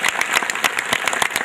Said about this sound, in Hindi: एक बार ताली तो बजा दो जोर से।